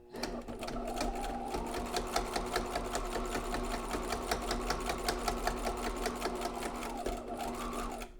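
A sewing machine runs steadily for several seconds, stitching a pleat on a homemade protective face mask, its fast even needle clatter close and loud before a brief slowdown near the end.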